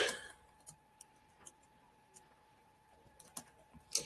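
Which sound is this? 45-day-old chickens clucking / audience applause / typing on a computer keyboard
typing on a computer keyboard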